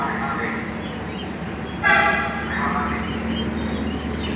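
An electric commuter train's low running rumble with a brief high tonal horn-like sound in the middle, over steady station ambience.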